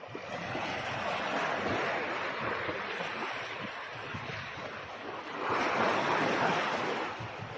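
Ocean waves wash onto a beach at Ras El Ramel, a continuous soft roar of surf with some wind, swelling louder as a bigger wave breaks near the end.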